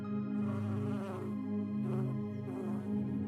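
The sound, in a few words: honeybees buzzing in a video game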